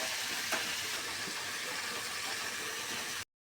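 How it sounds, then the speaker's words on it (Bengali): Chicken pieces coated in spices sauté in oil in a pan with a steady, even hiss of frying that stays level throughout, then cuts off abruptly into silence. "মাংসের সাথে মশলাটা সুন্দর করে মিক্স করে দিলাম। এখন আমি আস্তে আস্তে কষে নেব।"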